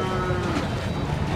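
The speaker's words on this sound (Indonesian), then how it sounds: "Ini ada sapi Limusin ini" A Limousin cow lows briefly at an Indonesian cattle market, a short, close call set against market chatter and people talking.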